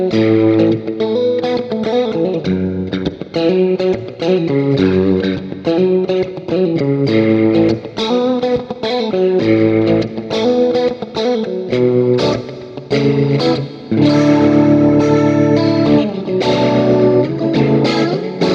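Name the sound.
electric guitar through Axe-Fx II preset with rotary effect and reverb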